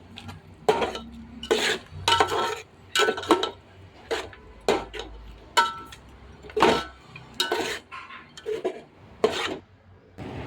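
Chicken pieces with a green coriander paste being stirred in a pan for chicken biryani: a spatula scrapes and rasps against the metal in steady, rhythmic strokes roughly every second, close and fairly loud, with no talking.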